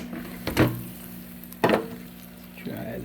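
Meat frying in a pan, checked with a ThermoMaven digital meat thermometer, gives a steady low sizzle with two sharp, loud bursts of spattering or stirring and a softer crackle near the end.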